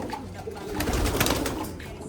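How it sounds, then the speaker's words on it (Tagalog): Checkered pigeons in a loft give a brief, low coo at close range. A hiss of background noise sits under the short call. "Ito yung checkered mga kalapatid yan."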